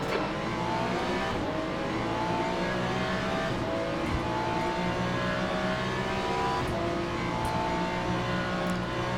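GT3 race cars accelerating off the line at a race start in Le Mans Ultimate, a dense, steady roar of several engines revving together, loud and continuous throughout with no talk.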